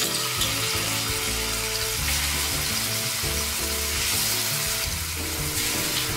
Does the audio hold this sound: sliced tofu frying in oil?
yes